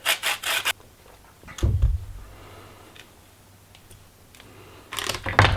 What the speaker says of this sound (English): so that's most of the zest of one lemon